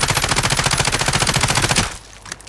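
A machine gun fires in Call of Duty: Modern Warfare, a close, loud, rapid continuous burst of shots lasting nearly two seconds before cutting off into quiet.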